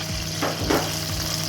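Green chillies fry in a pan of hot oil for Amritsari chole masala, giving a brief, close, continuous sizzle with a couple of soft stirring scrapes.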